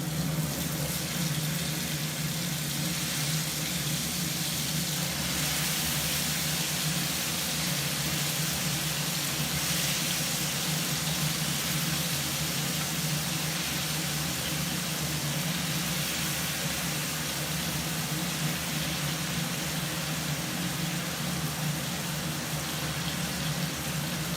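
Chicken pieces shallow frying in hot oil for a chatpata dish, a dense, steady sizzle and crackle that stays loud and unbroken throughout with no talk.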